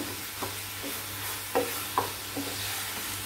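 Wood apple chutney being stirred in a pan with a spoon, soft scraping strokes at an uneven pace over a faint low sizzle, with no talking.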